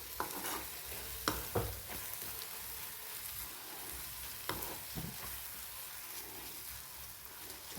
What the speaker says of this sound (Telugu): మంచిగా వేయించుకోవాలి ఇది